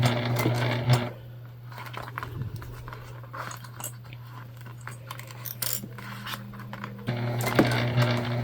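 A Juki sewing machine runs steady stitches across a structured bag, a low continuous motor hum with short louder bursts at the start and end, and small clicks and handling knocks in between.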